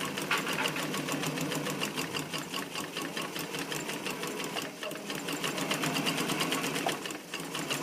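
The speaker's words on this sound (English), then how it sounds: "now I'm going to sew up this side" A sewing machine runs steadily through heavy fabric, its needle hammering in a fast, even rapid-fire rhythm at close range, with one brief pause near the end before it carries on.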